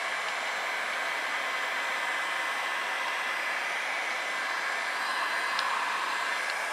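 Heat gun blowing a steady, close hiss of hot air while softening old adhesive behind a car emblem, continuous and even throughout.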